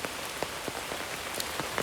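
Steady rain falls in dense forest in India, a close, constant patter of drops hitting surfaces, with no voices.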